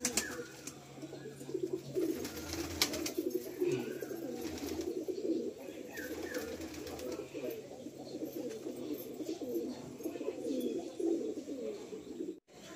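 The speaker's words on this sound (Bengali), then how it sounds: "ভালো পায়রা, এটা ভালো নর পায়রা" A male Rajasthani pigeon coos up close in repeated low rolling phrases, with occasional faint wing rustles and a bit of background talk.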